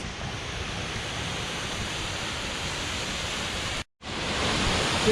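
Waterfall crashing among massive boulders near Guadalupe, Colombia, a loud, steady broadband roar close by, briefly cutting out before resuming.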